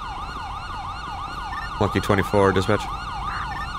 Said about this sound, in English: Let me turn my siren off.